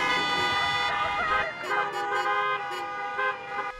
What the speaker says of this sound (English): pomp and circumstance gave way to honks and hollering at Cal State San Marcos